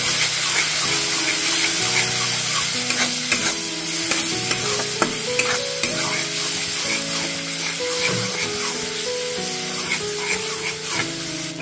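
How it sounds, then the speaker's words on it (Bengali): Spices with coriander and Kashmiri red chili powder and a pinch of sugar sautéing in oil over high flame, a loud continuous sizzle broken by repeated close spatula scrapes and stirs, with background music playing along. "দিয়ে সব কিছুকে খুব ভালোভাবে কষিয়ে নিচ্ছি"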